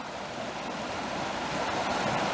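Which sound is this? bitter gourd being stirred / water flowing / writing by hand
water flowing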